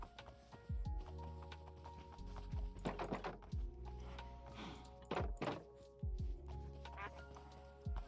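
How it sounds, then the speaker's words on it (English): A donkey in Minecraft with the TerraFirmaCraft mod makes several separate, close hoof clops and soft thuds, spaced irregularly with quiet gaps between them. "If we grab our donkey here."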